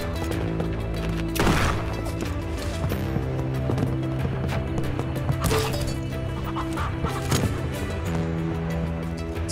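Clucking chickens in a multiplayer video game, repeated clucks and squawks over a steady layered game soundtrack with occasional louder bursts.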